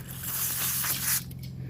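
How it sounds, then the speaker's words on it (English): Aerosol brake cleaner sprays onto paper towels during a 1996–2002 Dodge Caravan CV axle and brake rotor job: a steady, close hiss lasting about a second before cutting off, with a low electrical hum underneath. "Spray the brake clean on the paper towels."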